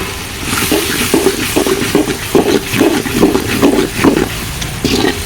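Tomatoes cooking down in a pan for a bombadai (Bombay duck) tomato curry, with repeated scraping stir strokes over a steady close sizzle and no talking.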